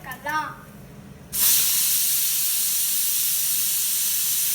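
Asafoetida and dried red chillies hit hot sesame oil, a sudden loud, steady sizzling hiss that starts abruptly after a brief spoken moment and continues unbroken.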